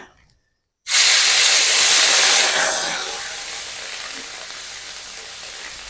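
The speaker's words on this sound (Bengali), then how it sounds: "দু মিনিট নেড়ে ছেড়ে ভেজে নেব" Onion paste hits hot oil with whole cinnamon, cardamom and cloves for a cauliflower roast, bursting into a loud hissing sizzle after a quiet start that gradually settles to a softer steady fry.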